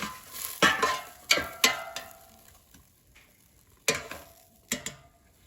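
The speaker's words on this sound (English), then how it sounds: "let's take out the air fryer basket. And let's mix the onions and the mushrooms so they cook evenly" Onions and mushrooms tossed in a pulled-out air fryer basket, heard as scattered rattling clatters and scrapes in several separate bursts with quiet pauses between, close and fairly crisp.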